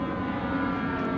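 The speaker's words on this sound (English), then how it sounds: "As for your flyover the other day, we've got airplanes too." Airplane passing over a park with pavilions, a lake and benches, a steady, fairly loud engine drone that holds evenly throughout without any talk.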